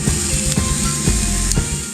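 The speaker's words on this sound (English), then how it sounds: "Can you hear that sizzle?" Steady, loud sizzling of meat frying on a hot surface, a continuous crackling hiss with a few brief louder pops.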